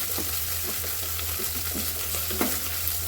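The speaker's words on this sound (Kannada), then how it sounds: "ಈಗ ಮೆಂತ್ಯ ಸೊಪ್ಪು ಹಾಕ್ತಾಯಿದ್ದೀನಿ ಮೆಂತ್ಯ ಸೊಪ್ಪು ಸ್ವಲ್ಪ ಫ್ರೈ ಆಗಿ" Fenugreek leaves fry in a pan for vegetable pulao, making a steady hissing sizzle with small irregular crackles and stirring scrapes, close and even, no talking.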